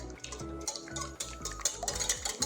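Ingredients for sourdough discard scones, eggs among them, being stirred in a cup, giving a steady rhythmic scraping and clinking of a utensil against the container for a few seconds, close and fairly loud.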